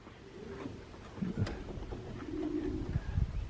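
Homing pigeons coo softly in low, repeated throaty calls, close by, with outdoor background noise and no talking.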